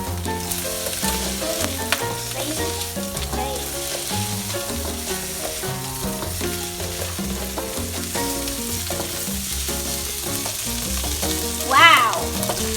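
Salmon fried rice stir-fried in a hot pan gives a continuous loud sizzle with rhythmic spatula scraping and tossing, and a brief sharper flare of frying near the end, over background music.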